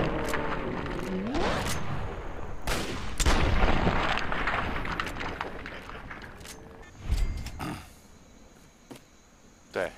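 Gunfire in Fallout 3, Point Lookout DLC: several heavy, booming shots and a dense rumbling volley amid game ambience, then a few sharper isolated cracks fading toward quieter surroundings.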